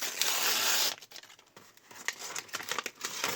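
A paper packet tears open with a long ripping sound, followed by crinkling and rustling as the wrapper is handled, close and fairly quiet.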